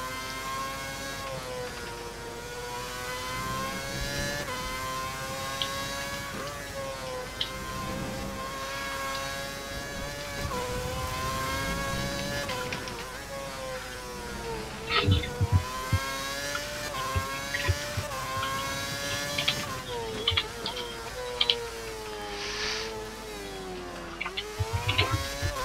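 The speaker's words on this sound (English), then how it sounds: "So it's just cars on track being douches." F1 race cars from the F1 2011 video game lapping during qualifying, a steady high engine whine with shifting pitch and occasional gear changes, continuous and moderately loud.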